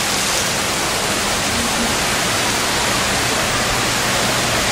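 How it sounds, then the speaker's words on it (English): Splashing hotel fountains right outside a room in Maui, a dense, steady rush of falling water filling the whole stretch without pause, loud and close. "And here are the fountains right outside."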